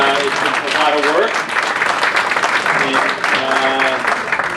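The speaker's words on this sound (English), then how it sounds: "Can we give a round of applause for Margaret?" An awards-event audience applauds in a dense, steady wash of clapping, with a voice talking over it.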